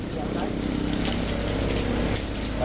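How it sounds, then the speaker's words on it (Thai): Steady, dense wash of heavy rain pouring down close by, a constant loud hiss with a low rumble underneath and no pauses. "ฝนตกหนักเดี๋ยวไปกันต่ออ่า"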